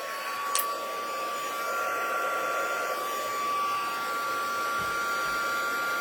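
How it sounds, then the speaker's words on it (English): A heat gun blows steadily on a stamped card to set gold embossing, a constant breathy whoosh with a faint whine that holds level throughout, plus a brief click near the start. "I'm going to put the heat gun on now."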